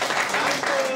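Brief burst of audience applause at a German Schlager revue show during the encore and thanks, dense clapping with a voice faintly audible beneath.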